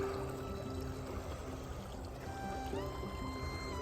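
A small forest stream beside a hiking track in logged woodland flows in a steady close wash and trickle, alone and continuous.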